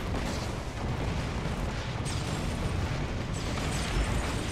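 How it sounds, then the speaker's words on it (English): A barrage of loud, rumbling explosions and booms blasting continuously, dense and close, in co-op Borderlands: The Pre-Sequel combat with grenades, with no talking. "Okay, that was a lot of explosions."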